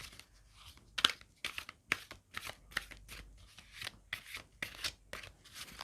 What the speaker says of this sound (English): Shuffle quickly.